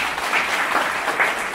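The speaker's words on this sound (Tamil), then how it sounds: "உங்களுடைய கரகோஷத்தை" Audience applause at a temple's annual festival in Wembley, UK, loud sustained clapping from a crowd filling the whole moment.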